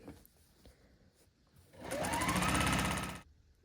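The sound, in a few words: sewing machine stitching quilt rows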